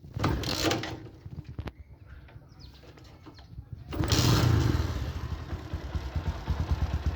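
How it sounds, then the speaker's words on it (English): A 2020 Bajaj Boxer X150 motorcycle engine catches and starts running at about four seconds, after a few clattering kick-starter kicks and mechanical thumps, then idles steadily close by. "I can start the motorcycle by using the kick starter"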